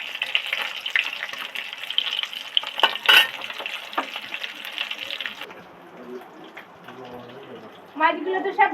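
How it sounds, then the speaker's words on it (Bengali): Katla fish pieces deep-frying in hot oil give a steady, close sizzle with occasional stirring clatter, fading toward the end, while someone talks over the cooking. "মাছগুলো আস্তে আস্তে ধরে ধরে ভাজতে থাকছি।"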